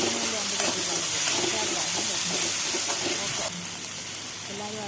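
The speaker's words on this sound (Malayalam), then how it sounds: "സവോള ഒന്ന് വാടി വരുമ്പം ഒരു തക്കാളി അരിഞ്ഞ് ചേർത്ത് കൊടുക്കാം ഒന്ന് ഇളക്കി കൊടുക്കാം" Sliced onion and chopped tomato sizzle and hiss as they fry in a pan while being stirred, a loud, continuous crackle that drops slightly toward the end.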